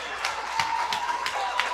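A high school basketball crowd at a tournament championship in Meadville stirs and claps, scattered hand claps and murmuring over a steady hum that is moderately loud and builds slightly.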